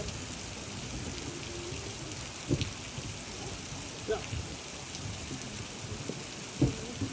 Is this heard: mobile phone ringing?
no